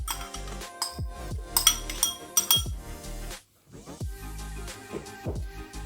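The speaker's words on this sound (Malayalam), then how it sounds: "പഞ്ചസാര അലിഞ്ഞു വരുന്നത് വരെ മിക്സ് ചെയ്തെടുക്കാം" Salad ingredients stirred with sugar in a bowl, producing close, bright clinks and scrapes of a utensil against the bowl in uneven bursts with a short gap.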